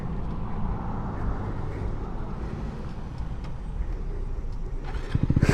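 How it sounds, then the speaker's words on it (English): A Honda Grom motorcycle in traffic rumbles at a steady low idle, close and continuous, then breaks into a short run of uneven sputtering pulses at the end. "I stalled it."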